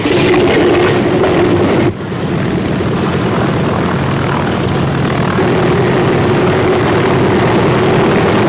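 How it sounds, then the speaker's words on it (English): Droning propeller engines of WWII C-47 transport aircraft loading paratroopers, a loud steady roar with a brief dip early on, then a continuous hum with no voices. "The paratroopers are loaded into hundreds of C-47 transports."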